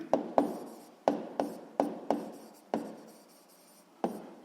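Pen strokes on paper while writing numbers by hand for a sixth-grade maths exercise: a series of short, sharp scratchy taps in irregular bursts, close and fairly quiet, with no talking.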